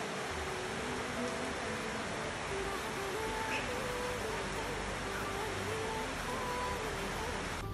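Rain falls steadily outside a balcony of a home, a soft, even hiss of drops that holds constant throughout, with faint tonal sounds drifting over it.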